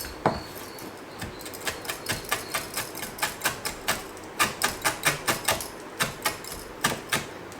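Parsley leaves chopped on a board with a knife, a steady run of sharp, close, evenly spaced taps that come in short quick bursts.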